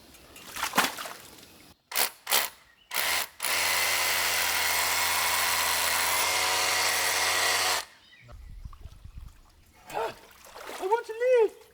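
A power drill runs in one sustained, loud burst for about four seconds, bracketed by short clunks and brief talking before and after.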